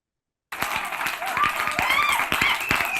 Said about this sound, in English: And I guess we did get applause.